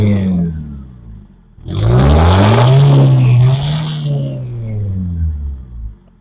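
Thirty-year-old BMW E36 Compact engine revving through a larger direct exhaust, a loud close throaty roar that climbs after an idle and holds high before easing back down.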